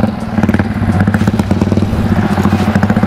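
Yamaha Vixion 200 motorcycle engine held at high revs, a loud, close, steady throbbing roar with a fast pulsing rhythm that keeps going throughout.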